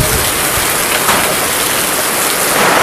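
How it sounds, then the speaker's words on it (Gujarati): Heavy rain pours steadily in a village near Botad during a stormy downpour, a dense, loud, continuous broadband wash of drops hammering surfaces without pause. "કેવો વરસાદ પડે? ધબધબાટી બોલા વરસાદ જ તો."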